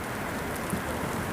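Rain falls steadily on a winter lake during carp fishing, a close, even hiss of drops without pause or speech.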